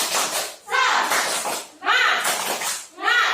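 Schoolchildren perform a rhythmic clapping cheer in a classroom, bursts of claps and chanting voices repeating in three short rounds, loud and close.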